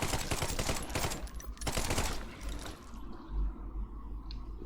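Tommy gun firing in The Sinking City video game, rapid bursts of automatic gunfire lasting about two seconds with a brief gap, then fading into a quieter, murky ambient tail.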